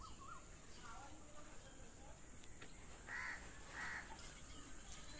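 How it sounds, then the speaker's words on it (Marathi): A crow caws twice in the distance over a quiet background hiss, with a few faint bird calls earlier, in rural Khed, Konkan. "पक्ष्यांच्या आवाजाने सगळं शांत, खूप चांगलं वाटतं."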